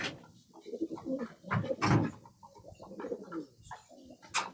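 Pigeons in a small loft housing three or four breeds coo repeatedly up close, a run of soft, throaty calls overlapping with no one speaking.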